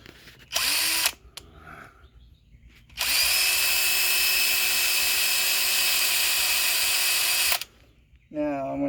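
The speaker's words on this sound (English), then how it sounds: "now I'm going to drill over here, but I've got to drill in at an angle" A power drill whines in a short burst, pauses, then runs steadily for several seconds at high speed drilling into wood at an angle, close up, with a voice between bursts.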